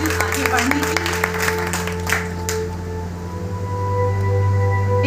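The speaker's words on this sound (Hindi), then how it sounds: "एक बार इन बच्चों के लिए तालियां।" An audience at a community service group event claps for schoolchildren, a burst of scattered applause in the first few seconds that fades out under a steady electrical hum.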